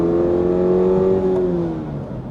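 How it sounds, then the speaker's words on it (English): A 2024 Toyota GR86 manual pulls hard in second gear, its engine note loud and close, climbing steadily and then easing off as the revs fall. "isn't this fun to accelerate like this in the second gear"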